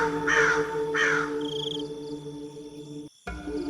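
A crow caws twice in quick succession, loud and close, as a sound effect in a Bengali ghost story, followed by a low eerie drone and a brief dropout.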